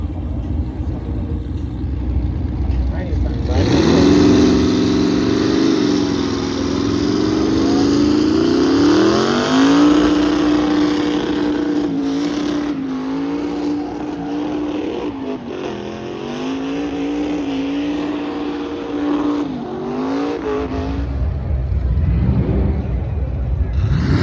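A twin-turbo truck at an outdoor custom car show revs hard and holds a long, loud burnout, its engine note rising and wavering for about twenty seconds before cutting off, with voices faintly around.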